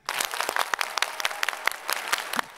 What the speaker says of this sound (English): Clap 10 times.